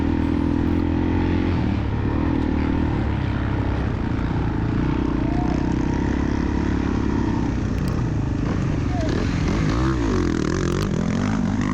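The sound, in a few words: motocross dirt bikes passing during race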